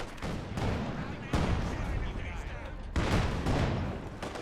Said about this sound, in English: Here comes the artillery, right on the MG.